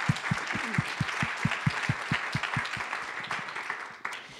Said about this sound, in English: give one more round of applause to our speakers